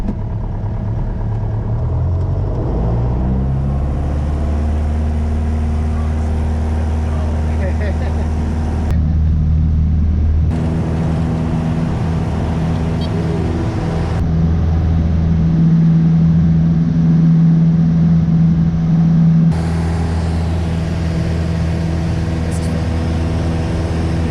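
A small airplane engine drones loudly and steadily in flight over farmland, a continuous close hum with stable tones and slight shifts in pitch.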